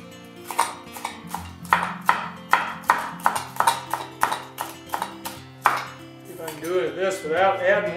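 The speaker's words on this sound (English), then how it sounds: "I'm gonna cut our one generous onion" A knife chops a generous onion on a board in a ranch kitchen, a steady run of sharp, close cuts, with a tonal ring from kitchen gear in the background and some sizzling toward the end.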